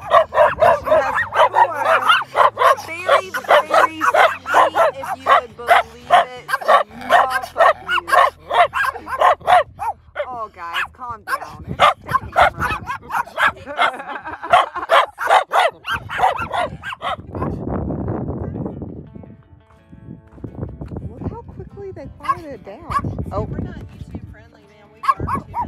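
Small puppies bark and yip repeatedly, close and loud, with whimpers mixed in at an off-grid desert boondocking camp in Arizona; people talk over and between the barks throughout.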